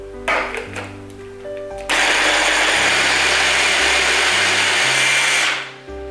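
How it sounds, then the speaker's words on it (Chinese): A few clunks, then a blender roars loudly and steadily for several seconds before cutting off abruptly, blending soaked, squeezed soy protein chunks with water. "捏干后放进搅拌机里面"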